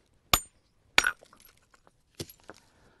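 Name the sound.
hammer knocking flakes off flint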